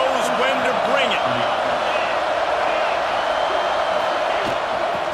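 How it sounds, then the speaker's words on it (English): In a college football video game, a stadium crowd roars steadily in the red zone, a dense sustained cheer with scattered whoops, heard alongside a commentator's voice. "This crowd knows when to bring it."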